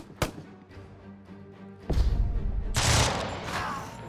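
Gunfire in the tactical game Jagged Alliance 3: a sharp crack opens, then a pause before a heavy burst of shots and a bright, noisy blast with a fading tail.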